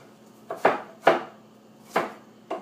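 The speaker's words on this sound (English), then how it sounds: "I'm just kind of finely chopping this onion as well." A knife finely chopping an onion comes down onto a cutting board in four separate, unevenly spaced thuds, close and crisp, with quiet room tone between them.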